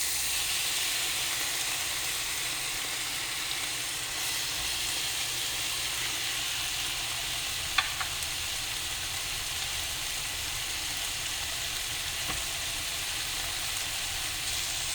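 Halved tomato added to okra frying in a pan for a bhindi sabzi, a steady soft hiss and sizzle throughout with a faint clink partway, no talking.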